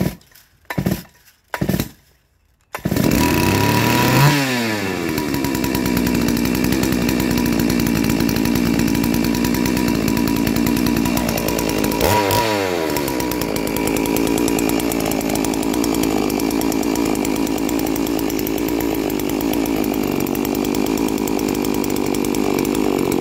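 A Neo-Tec F380 chainsaw on its first start: a few short pull-cord rips, then the engine catches, revs up high and runs loudly and steadily, with a second rev-up partway through.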